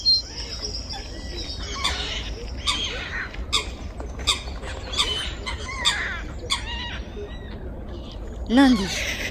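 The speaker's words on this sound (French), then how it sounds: "laissant le lac aux mouettes querelleuses, aux foulques, aux canards et aux cormorans" Quarrelsome gulls squawk at a lake, harsh calls sounding repeatedly over soft background noise, some near and some farther off, with a louder squawk near the end.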